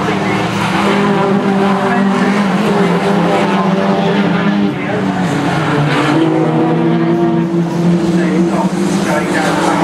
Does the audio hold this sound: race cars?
yes